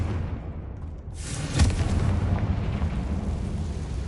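A Confringo blasting spell bursts into a deep, loud explosion in Hogwarts Legacy, a sharp boom followed by a long rumbling tail that lingers with no talk over it.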